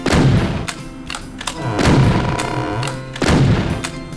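Sniper rifle shots in the Doom mod MORIXMAS.Wad, with three loud, booming reports spaced about a second and a half apart, each decaying into a reverberant rumble, plus smaller thuds in between.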